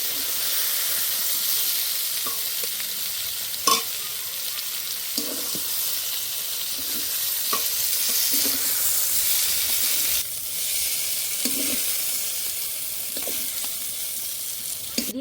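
Eggplant frying in oil in a pan, a dense, steady hiss of sizzling that carries throughout, close and fairly loud, with a few light clinks and stirring sounds now and then and no talking.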